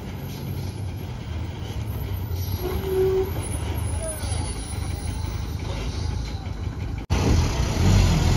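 A state transport bus from the Konkan route pulls in on a roadside in the evening, engine rumbling and air brakes hissing, close and steady amid background chatter and traffic noise, with a louder burst near the end.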